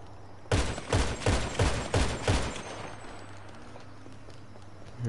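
Rapid burst of explosive-round gunfire in GTA 5, about six loud evenly spaced blasts over two seconds, each with a booming tail, followed by a quieter lingering rumble.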